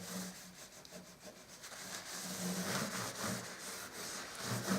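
A cloth rubs back and forth along a rosewood guitar fretboard, wiping off excess lemon oil in soft, steady, close strokes with no voices.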